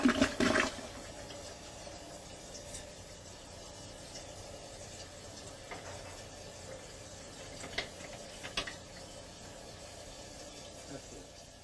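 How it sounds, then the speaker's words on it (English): A commode flushes up close with an initial loud rush, then a long, steady hiss of water running and refilling the sewer line. "flush the commode"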